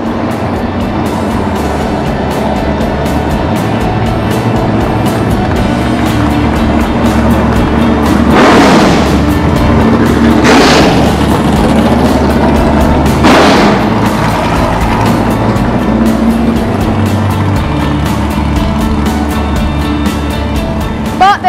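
A loud 1970s McLaren Can-Am race car engine roars continuously, with three sharp revving surges in the middle as the car accelerates past.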